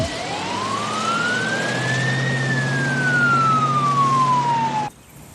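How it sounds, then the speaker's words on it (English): An ambulance siren wails loud and near, its tone sweeping up and then slowly down in one long cycle over engine rumble before cutting off abruptly. "A mobile medic ambulance was immediately dispatched to the scene."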